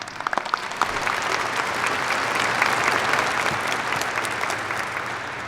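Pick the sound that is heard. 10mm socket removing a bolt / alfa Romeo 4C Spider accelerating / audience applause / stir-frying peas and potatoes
audience applause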